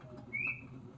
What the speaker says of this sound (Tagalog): Nag-aawit yung ibon anak. Ang ganda po ng busis ng ibon anak.